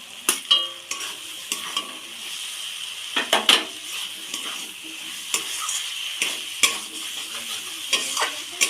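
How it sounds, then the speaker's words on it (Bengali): Potatoes are stir-fried in a cooked-down spice masala, with repeated sharp clanks of a metal spatula against the pan over a moderate, close sizzle. "মশলাটা দেখে তেল ছেড়ে গেছে, এবার আলুটা দিয়ে দেবো, দিয়ে আরেকটু কষিয়ে নেব।"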